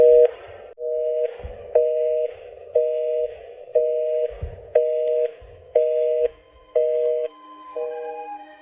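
A telephone busy signal repeats as evenly spaced on-off tone pulses, about ten beeps in a steady rhythm, clear and loud with nothing else heard.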